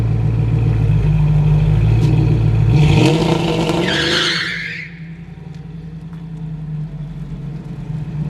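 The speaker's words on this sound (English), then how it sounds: "Doing burnouts on other people's cars." A 1968 Dodge Coronet with a 4R100 transmission and trans brake roars loudly as its tires break into a harsh skidding squeal during a burnout, then the engine eases back to a rumbling idle, with no talking.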